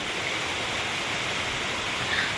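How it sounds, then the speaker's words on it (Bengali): A storm outside brings a steady, loud wash of heavy rain and wind, an unbroken hiss with no voices. "তাহলে চলো এখানে দাঁড়িয়ে আমি এনজয় করি ঝড়টা, এই বৃষ্টিটা"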